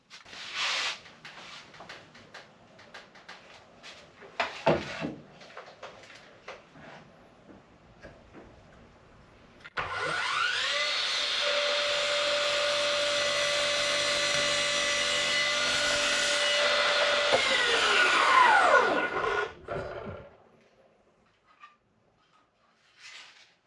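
A Bosch 18V Biturbo cordless mitre saw (GCM 18V-305 GCD), set to speed setting 1, cuts through hardwood: a loud, steady motor whine for about ten seconds that winds down, with handling clicks before and after.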